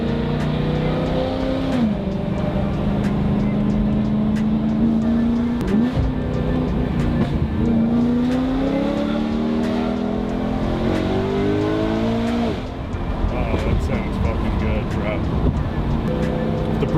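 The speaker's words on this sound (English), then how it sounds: "this is the first time this car's been driven in 3 years." A BMW E92 M3, back on the road after sitting unused for three years, drives along with a steady engine drone that swells through rising revs and gear changes, heard from inside the car.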